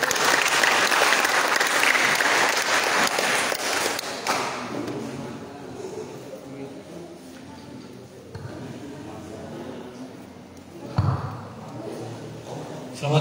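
An audience at a student leadership training session breaks into loud, dense applause for about four seconds, which then fades to quiet room noise with a few scattered thumps.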